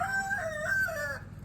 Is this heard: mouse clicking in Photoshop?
no